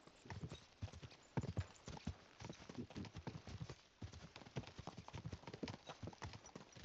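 A horse gallops at speed during a race in the medieval game Kingdom Come, its hooves drumming in a fast, continuous rhythm, close but quiet overall.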